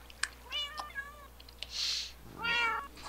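Several cats meow in the Minecraft video game, short repeated mews in a quick irregular series with a brief hissy burst between them, fairly close and clear with no talk over them.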